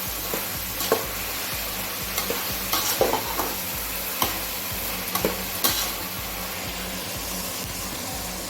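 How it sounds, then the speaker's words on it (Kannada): Capsicum and mixed vegetables sizzle and fry in a pan for veg fried rice, with steady crackling oil and repeated scraping stirs throughout, close and moderately loud. "ಇದೊಂದು 2-3 ನಿಮಿಷ ಫ್ರೈ ಆಗಬೇಕು."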